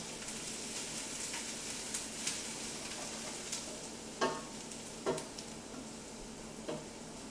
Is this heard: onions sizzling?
yes